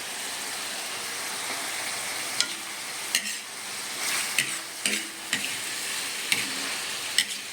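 Chili peppers fry in a pan with a constant hissing sizzle, broken by sharp pops and crackles every second or so, heard up close with no talking.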